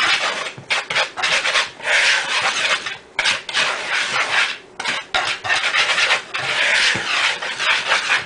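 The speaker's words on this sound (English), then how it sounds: "We're going to whisk these together to make sure they're" A whisk scrapes and rasps through 2 3/4 cups of all-purpose flour and other dry ingredients for vegan cake mix cookies in a bowl, loud and close in steady rhythmic strokes with brief pauses, no talking.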